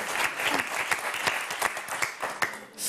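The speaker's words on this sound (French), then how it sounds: "Alexia, on vous applaudit très fort, bravo." Studio audience of a French television word game show applauding, a dense, even burst of clapping lasting a few seconds at moderate level.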